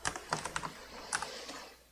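Computer keyboard keys are tapped for After Effects shortcuts, a quick cluster of close, crisp clicks followed by a couple more after a short pause, with no talk.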